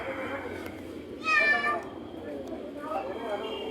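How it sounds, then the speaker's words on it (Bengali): A cat lets out a single clear meow, rising and falling over about half a second, in the middle of a family outing indoors, with voices and background chatter around it. "তুমি মিয়াও দেখেছো বাবা?"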